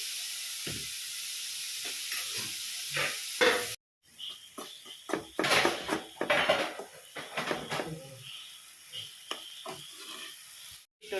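Tomatoes are stirred in a frying pan for prawn chilli curry. A spoon repeatedly scrapes and clatters against the pan over a bright sizzling hiss, with a brief pause partway through.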